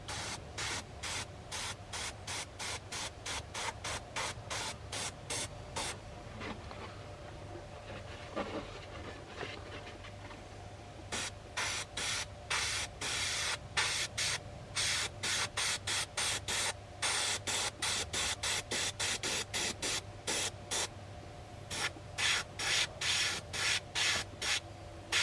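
An airbrush sprays paint onto a flocked mallard drake decoy in short, rapid hissing bursts, sharply on and off in a quick rhythm, with a brief pause near the middle and a faint compressor hum underneath.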